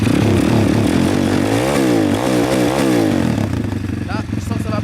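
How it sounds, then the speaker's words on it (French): A 150cc dirt bike engine idles and revs right after starting, loud and close, its throbbing tone rising and falling through a few quick revs before settling into a steady idle. "Donc voilà, la moto elle est démarrée. Donc ça fait un bon petit bruit quand même, hein."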